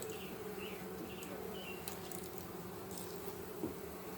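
Honey bees buzz steadily inside a hive while a package of bees is being installed, a dense continuous drone with a few louder individual bees passing close by.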